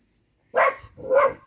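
Two loud, close dog barks in quick succession, then quiet.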